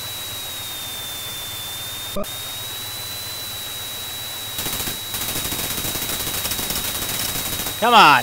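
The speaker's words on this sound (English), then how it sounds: "I'm getting shot from behind now" Aircraft gunfire in the combat flight game Chuck Yeager's Air Combat, a dense burst of rattling shots in the second half over a steady engine drone, with a brief voice heard earlier.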